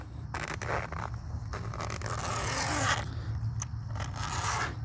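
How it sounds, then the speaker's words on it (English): Zipper on the pouch of a TackLife 100-watt portable folding solar panel being pulled open, a close, steady scraping rasp lasting several seconds with brief pauses and no talk. "you have like a pouch with a zipper"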